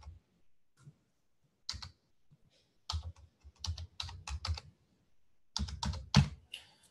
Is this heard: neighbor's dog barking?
no